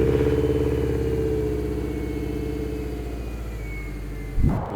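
JDM Subaru EJ205 car engine running at a steady idle with a low droning hum that eases slightly in level, close by, followed by a short knock or clunk at the very end.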